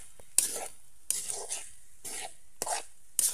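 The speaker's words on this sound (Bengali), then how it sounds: "সুন্দর করে নাড়াতে হবে। নাড়ায় ভাতটা সুন্দর করে ভেজে ফেলতে হবে" Rice fried with egg, turmeric and vegetables is stirred in a pan, with four distinct scraping strokes at a slow, even rhythm over a faint sizzle.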